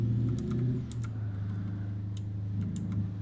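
Computer keyboard keys clatter in quick, uneven bursts alongside a few mouse clicks, heard close up over a steady low rumble from a loud truck cab on a freight haul from Alliance, Nebraska to Sheridan, Wyoming.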